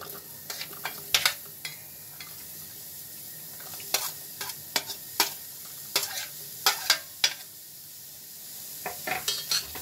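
Chopped onion sizzles softly in a pan for okra curry cooked without oil. A spoon stirs and scrapes it in repeated sharp clinks over a steady low hiss.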